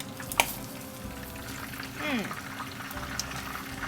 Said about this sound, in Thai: ทิ้งไว้ตอนเวลาน้ำมันเขาเดือดประมาณอย่างนี้นะคะ